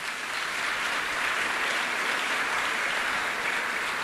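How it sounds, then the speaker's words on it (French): Church congregation applauding together during a sermon, a steady dense wash of clapping that holds for the whole stretch without any talk. "Acclamons la parole de Dieu."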